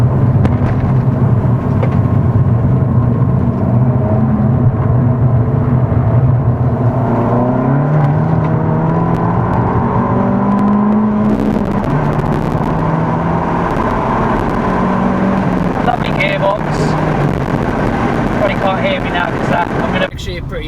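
An Abarth 695c Rivale driven hard in sport mode, its engine droning loudly and rising and falling with shifts over a steady roar of road and wind noise, with a voice speaking inside.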